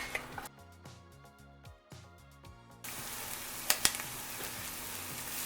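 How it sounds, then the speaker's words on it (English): Chopped onion sautéing in a pot for cheeseburger soup: a short stretch of music opens, then a steady, close hiss of sizzling takes over and fills the rest, with a couple of sharp crackles. "We're going to go ahead and drop in our onion. We're going to start sauteing this up."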